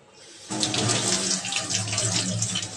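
Meat rinsed under a running kitchen tap before chopping, a steady full splash of water that starts abruptly and gushes on continuously, close and fairly loud, with no voices.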